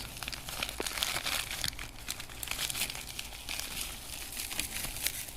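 AliExpress packaging for an SKMEI skull wristwatch being unwrapped, with continuous close crinkling and crumpling of plastic and paper, steady and fairly soft, with no talking.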